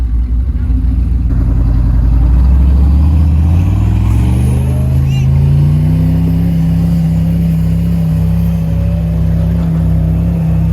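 A Turbo 1000 off-road vehicle's engine revs in the woods, its pitch climbing steadily and holding a loud, sustained drone close by. No one talks.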